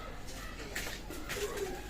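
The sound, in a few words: pigeons cooing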